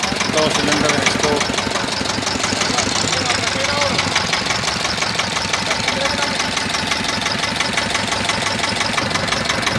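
A 1982 Escort 335 tractor diesel engine idles nearby with a steady, knocking mechanical chug throughout, loud and continuous under a man's speech.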